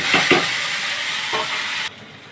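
A steady sizzle of taro and spices frying in a pan, with a few scraping stirs near the start, then the sound cuts off abruptly.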